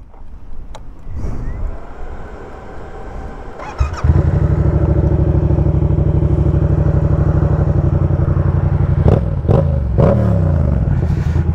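A motorcycle engine starting after a few quiet seconds, then revving and settling into a loud, steady close idle with a couple of sharper throttle blips near the end.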